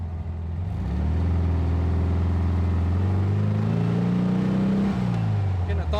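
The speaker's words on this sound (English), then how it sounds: "notice when the car is idling. It's got a nice smooth idle." A 1964 Volkswagen dune buggy idles at a traffic light, its low engine drone steady and close with pitch shifts midway, while someone talks over it.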